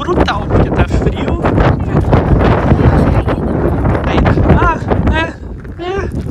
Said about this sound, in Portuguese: o vento tá brutal, porque tá frio